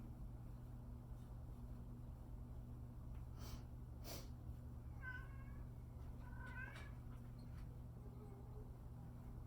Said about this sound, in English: If you hear my cat in the background, I promise he's okay.